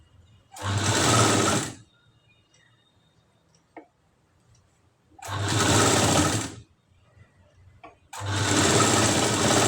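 Sewing machine stitching a katori blouse in three separate loud runs of about one to two seconds each, with quiet gaps between them holding a few faint clicks.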